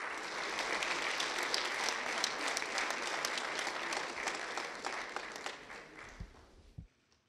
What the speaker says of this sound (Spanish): el aplauso de la distinguida concurrencia